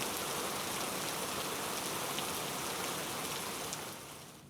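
Heavy monsoon rain pours steadily in Sindhudurg, Maharashtra, a dense, continuous hiss of downpour close by that tapers slightly at the end.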